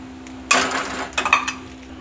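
Besan being stirred in ghee in a pan, a few sharp metallic clinks and scrapes of a utensil against the pan over a low steady hum, heard alone at close range.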